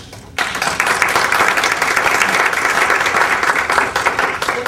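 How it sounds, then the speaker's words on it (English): Audience applause at a city council candidates forum begins abruptly after a quiet moment, then holds as steady, loud, dense clapping from a seated crowd for several seconds. "Let's save our applause until the next two finish"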